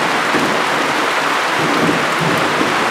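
Rain falling outdoors, a loud, continuous broadband hiss with no clear drops standing out and no speech over it.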